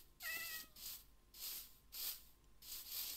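Repeated synthetic cat meows from a Minecraft cat, four or five evenly spaced, faint and soft, with a light electronic quality.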